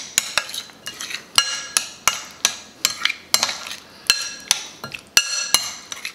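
Spoon or utensil clinking repeatedly against a bowl while stirring cheeseburger filling with pickles, a steady rhythm of sharp metallic taps close up, with no talking.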